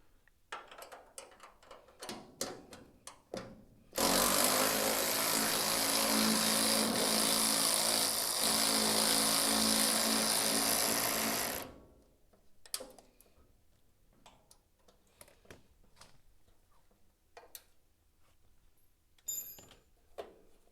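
An electric ratchet in a home garage spins out a bolt in one loud, continuous whirring burst of about eight seconds, framed by quiet ticks and clinks of tools before and after.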